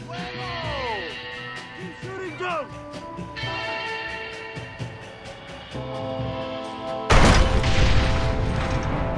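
Cannon fire in the Red Dead Redemption video game while holding a fort: a heavy boom bursts out late, after a stretch of music and game noise with voices talking over it.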